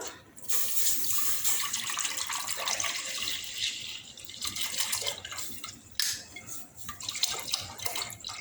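Four litres of milk being poured into a cooking pot, a continuous close liquid pouring and splashing that wavers slightly in strength, heard without talk.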